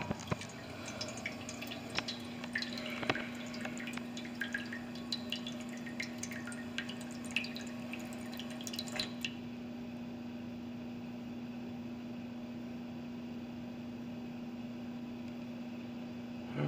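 Water draining from an upside-down water fountain, faint scattered drips and trickles over a steady low hum, close and quiet, with no talking.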